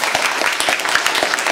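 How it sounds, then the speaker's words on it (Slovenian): Dense, lively applause from many hands, continuous and fairly close. "še enkrat en velik aplavz"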